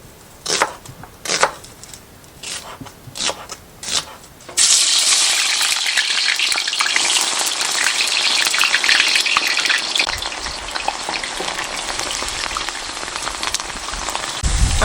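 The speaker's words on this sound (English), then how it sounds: "Fry till they are caramelized." Sliced onions frying in oil, a run of separate knocks and taps before the onions go in, then a sudden loud sustained sizzle that continues steadily and close for the rest of the stretch.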